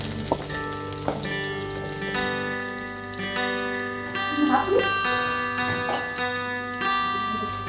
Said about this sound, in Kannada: ಇರುವಂಥ ಎಣ್ಣೆಗೆ ಸ್ವಲ್ಪ ಉಳ್ಳಾಗಡ್ಡಿ, ಮೆಣಸಿನಕಾಯಿ, ಕೊತ್ತಂಬರಿ ಹಾಕಿಕೊಂಡು ಸ್ವಲ್ಪ ಫ್ರೈಯನ್ನು ಮಾಡ್ಕೊಳ್ಬೇಕು.